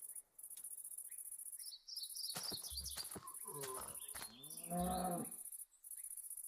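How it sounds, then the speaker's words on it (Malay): A cow moos in a Minecraft modpack game, two drawn-out lowing calls standing out clearly over steady background game noise and faint chirping. "Macam bunyi lembu."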